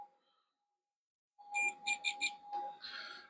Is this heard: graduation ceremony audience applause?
no